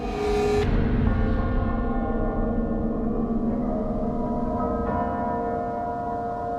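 Church bells ring loud and close, with long resonant overlapping tones that keep sounding and decay across the whole stretch; a fresh strike lands near the end.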